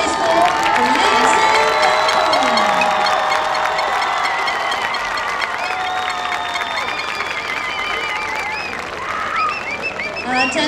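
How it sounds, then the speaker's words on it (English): A stadium crowd claps and cheers for a high school marching band and color guard at a regional championship, with loud sustained applause, shouts and whistles that gradually settle. "Ladies and gentlemen, another round of applause for James Logan High School"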